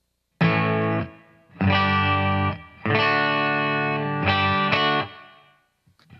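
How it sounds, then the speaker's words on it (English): Clean electric guitar played straight into the amp with no effects pedal: a run of bright, sustained chords struck loud and close, each ringing briefly before the next, ending in quiet. "Let's let you hear my clean guitar signal first"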